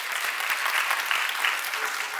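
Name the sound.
audience applause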